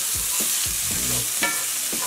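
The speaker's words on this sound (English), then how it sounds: "Ooh, that's sizzling so well." Butter sizzles and crackles steadily in a hot pan while a utensil scrapes and stirs, with several soft knocks against the pan.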